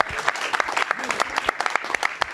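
Audience clapping at a New York startup pitch event, a dense run of hand claps filling the room steadily for a couple of seconds, fairly close and loud, with faint voices mixed in.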